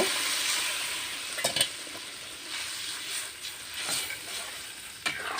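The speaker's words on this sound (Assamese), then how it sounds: "এতিয়া ইয়াত মই অকণমান পানী গৰম কৰি লোৱা দি দিম" Warm water poured onto fried spices in a hot pan sets off a loud, continuous close sizzle and hiss, broken by a few faint utensil taps.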